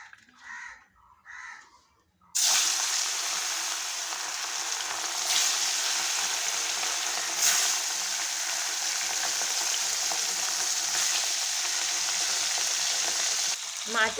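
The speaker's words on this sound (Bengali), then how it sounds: "এখন মাছগুলো আমি ভেজে নেব" Katla fish pieces drop into hot oil in a wok, setting off a loud continuous sizzle after a quiet opening with a few soft knocks, then running steadily with small bursts.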